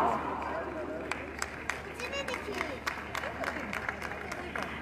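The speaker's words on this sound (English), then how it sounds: "Let's keep applauding for their remarkable performance." An audience claps at a school annual day, scattered moderately loud applause rising over hall murmur, with people talking and a voice echoing through the room.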